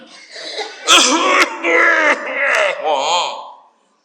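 A voice imitates coughing with a series of strained, groaning coughs and throat-clearing sounds. It is loud and close, lasts about four seconds and ends abruptly.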